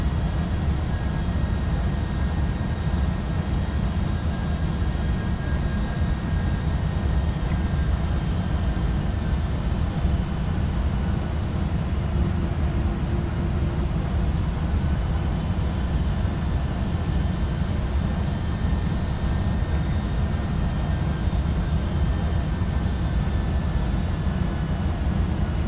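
A Boeing 757-200F freighter landing in X-Plane 12, with a steady, continuous jet engine roar and broadband airflow rumble holding at an even loudness throughout, with faint tonal whines above it.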